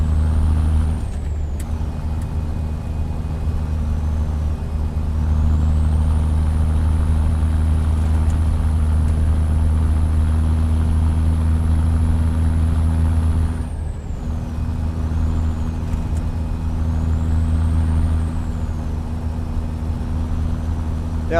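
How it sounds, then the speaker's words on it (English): A Peterbilt 389 with an 855 NT Big Cam engine idles in a trucking simulator, making a loud, steady, deep rumble that runs without a break, with faint higher tones drifting above it. "Engine is Z-Mod 855 NT Big Cam. Lovely engine. Super chill, super smooth."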